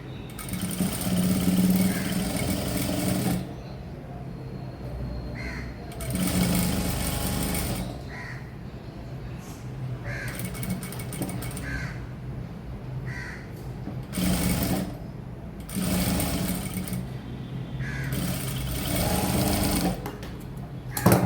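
Domestic sewing machine stitching along a folded fabric edge, running in several loud bursts of rapid mechanical whirring separated by short pauses, with no talking.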